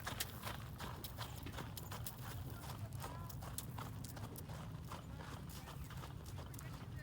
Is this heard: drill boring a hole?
no